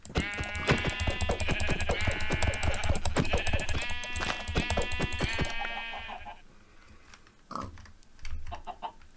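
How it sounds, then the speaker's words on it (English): Sheep in the Minecraft video game bleat repeatedly in quick, rhythmic, harmonic cries, loud and close for about six seconds, then fading to quieter, scattered in-game noises. "Hello, sheep, sheep."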